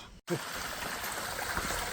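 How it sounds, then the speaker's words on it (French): Rushing water roars steadily like a nearby waterfall cascade on the Lamirande trail in French Guiana, a dense broadband wash filling the scene after a brief cut. "on va peut-être avoir une bonne surprise, enfin tomber sur les cascades"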